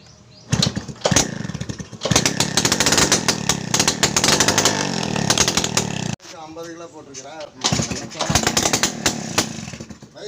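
A TVS XL moped engine, its spark plug just cleaned after water got into it, sputters to life and runs loud and close in rough, uneven bursts, dropping out briefly and then revving again, with a voice speaking during the pause.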